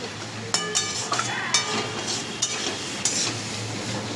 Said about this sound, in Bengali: যতক্ষণ না ড্রাই হয় আমি এটাকে নাড়াচাড়া করতে থাকবো।